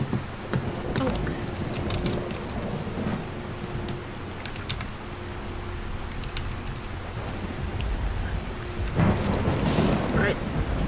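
A Skyrim thunderstorm: steady heavy rain pours throughout while low rumbles of thunder roll beneath, the downpour swelling louder toward the end.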